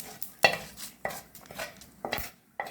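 A spoon scrapes and clinks around a pan, stirring fried mustard seeds, urad dal, lentils and curry leaves for idli powder; several sharp, irregular strokes close by with no talking.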